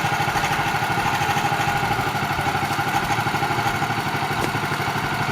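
A Woodland Mills HM130MAX sawmill engine runs steadily while milling, a continuous mid-pitched drone with a faint rattling pulse, close and loud with no talking.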